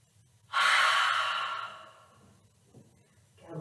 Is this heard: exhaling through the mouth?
yes